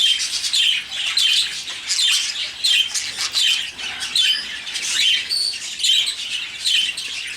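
A pair of birds in a nest-box setup trade loud, close squawks and chirps, with the calls coming in quick, irregular bursts back and forth without pause.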